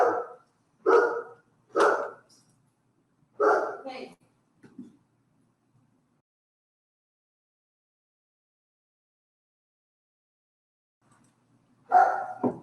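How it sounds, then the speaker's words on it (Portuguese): A dog barks five times in quick, loud bursts close by in an indoor home setting, falls silent for several seconds, then lets out one more bark near the end. "Meu cachorro aqui está deu uma surtada."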